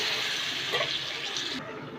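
Water poured into a pan of ivy gourd stir-fry, a soft splashing trickle lasting under two seconds at close range before it cuts off.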